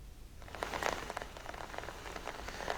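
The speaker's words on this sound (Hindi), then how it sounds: "वर्तमान समय लगातार वर्षा जारी रही" Heavy monsoon rain pours steadily over Cuttack city, a dense continuous hiss of drops striking surfaces, fairly distant and even throughout, with no voices.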